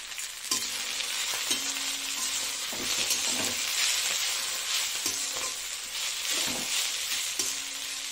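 Fenugreek seeds and garlic frying in a pan, a steady broadband sizzle with repeated stirring and scraping strokes at a close, even level, no voices.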